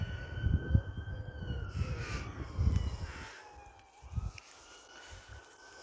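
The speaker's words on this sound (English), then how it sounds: "You can hear the church bells in the distance, but also police sirens or some sort of siren." A faint police siren wails and slowly glides in pitch far in the distance near a town in North Yorkshire, England, while crows caw loudly nearby in a cemetery.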